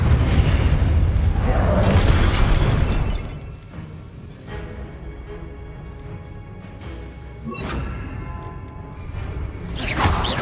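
A Confringo explosive spell blast goes off during a boss fight in the video game Hogwarts Legacy. It lands as a loud, booming roar that fades after about three seconds, then sharper crashing bursts follow later.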